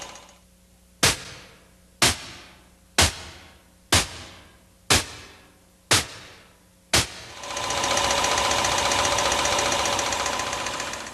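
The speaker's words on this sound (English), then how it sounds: "That was the engine noise at idle." An engine idles with a wrist pin knock from excessive wear: seven loud, sharp, evenly spaced knocks about a second apart, followed by a steady, rough running roar, close and unaccompanied by speech.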